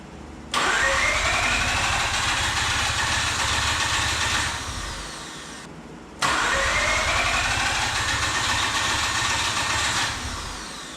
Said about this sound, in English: I'm gonna see if I can get it to fire